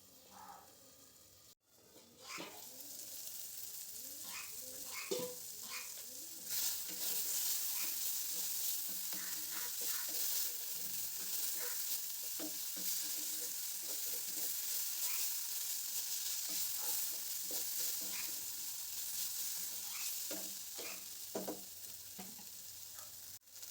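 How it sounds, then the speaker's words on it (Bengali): Beto shak greens frying in a pan give a loud, continuous sizzle with intermittent stirring scrapes, following a brief quieter moment at the start. "এবার এর মধ্যে আমি বেতের শাকগুলো দিয়ে দিলাম।"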